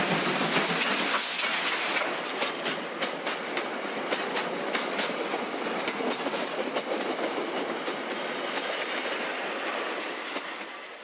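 A Garratt GF steam locomotive hauls its train on a twisting evening climb in South Africa, its wheels and wagons rattling in a steady, loud clickety-clack with dense mechanical clatter throughout, no voices.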